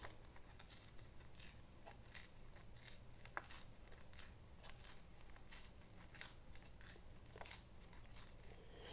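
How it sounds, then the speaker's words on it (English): Two-tone cardstock with a white core being torn by hand, giving a steady run of crisp, crackling rips close up, repeated in short bursts over a low background hum. "I'm just gonna tear"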